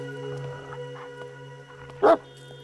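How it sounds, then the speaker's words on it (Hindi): A dog in a Hindi-dubbed film scene gives one short, loud bark near the end, rising sharply above a steady low hum and quiet background. "ये सर का कुत्ता है?"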